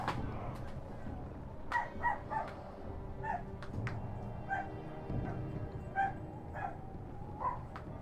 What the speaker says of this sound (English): I just heard another dog